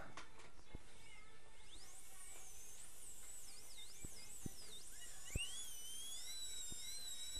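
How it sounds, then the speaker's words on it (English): High-pitched whine of a dental handpiece with a burr trimming an implant abutment, rising and sweeping in pitch as it cuts, fairly faint with a few soft clicks and no talk. "what I'll do is just take a handpiece and a burr"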